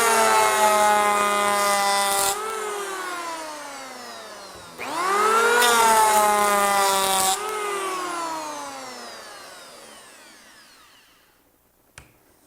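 Porter-Cable power planer shaving wood, two loud whining passes with the motor spinning up and winding down between them, then a long fading spin-down and a final click.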